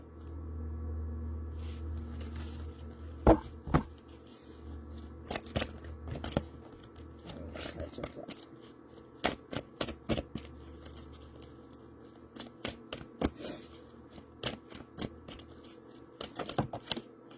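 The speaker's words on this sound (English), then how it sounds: "I want to pull one more card to kind of follow that up." Tarot cards being shuffled by hand, a quiet series of soft riffling flutters and sharp card taps in uneven bursts, close and alone without speech.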